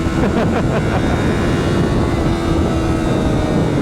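A loud, steady 2023 Honda CBR250RR sport motorcycle engine drone runs throughout, a sustained hum with rough wind buffeting layered over it and no pauses or voices.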